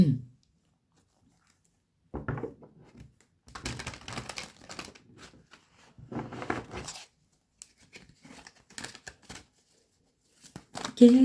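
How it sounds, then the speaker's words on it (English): Bursts of cards being shuffled, several short riffling flurries separated by pauses, close and fairly quiet. "Let's give these cards a shuffle."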